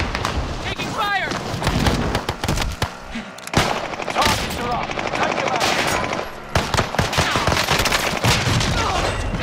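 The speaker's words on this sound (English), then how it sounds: "Taking fire!" Rapid automatic gunfire and scattered shots from Call of Duty: Modern Warfare crackle loudly and continuously, bursts overlapping with game effects while a player's voice speaks over the shooting.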